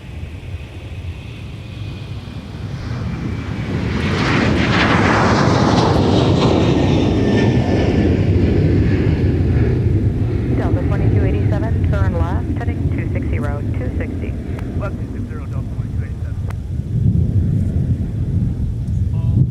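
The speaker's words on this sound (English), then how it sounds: "Meanwhile, here's Delta departing off 30 left." Delta airliner departing runway 30 Left at MSP airport: a loud, sustained jet roar that swells as the plane passes, then lingers as a broad rumble fading slowly into the distance.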